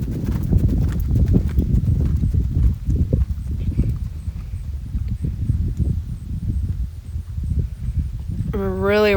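Hooves of a ridden horse clip-clop in an even walking rhythm close by, with a rider speaking over the steps and a brief whinny-like sound near the end.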